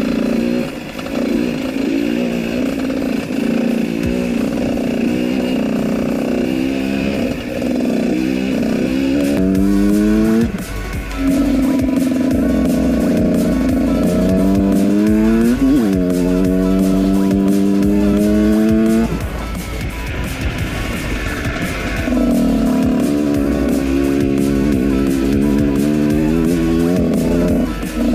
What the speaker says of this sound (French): c'est une vraie une bonne moto